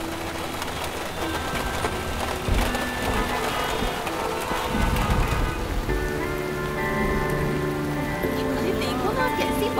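Steady rain falls throughout, a dense hiss of drops on surfaces, with pigeons cooing faintly now and then and some quiet dialogue mixed underneath.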